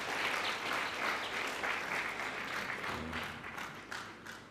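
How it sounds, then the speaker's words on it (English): Sustained audience applause at an innovation awards showcase for local economic development, steady and fairly distant, easing slightly toward the end, with no one speaking. "Let's give her a round of applause"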